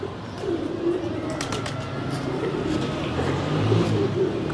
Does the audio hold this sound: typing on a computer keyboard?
no